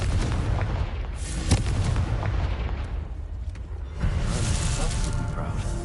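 A Confringo fire spell blasts in Hogwarts Legacy on PS5 with a loud, booming burst that rumbles and crackles over a few seconds, layered with dense game noise and brief voice sounds.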